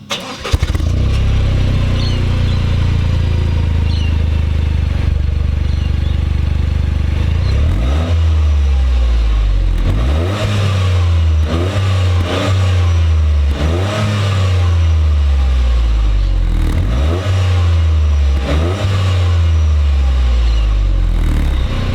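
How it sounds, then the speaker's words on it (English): A 2020 Toyota GR Yaris with a sports exhaust idles, then revs hard several times, its deep exhaust note rising and falling in repeated bursts, loud and close. "You've got a specifically designed sports exhaust system,"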